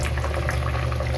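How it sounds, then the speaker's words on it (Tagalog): Vinegar goes into a simmering pot of pork hock paksiw, a brief steady wash of liquid noise over the bubbling. "lagay na natin yung suka."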